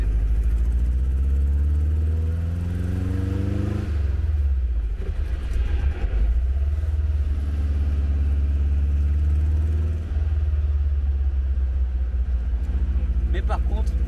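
The engine of a Porsche 356 Speedster runs loud and close, a deep, steady rumble whose pitch rises and falls with a few revs and then settles back to idle.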